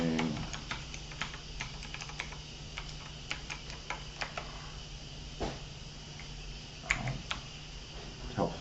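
Command typed on a computer keyboard during a multi-VM lab setup, a rapid run of light, close key clicks with brief pauses and a steady electrical hum underneath.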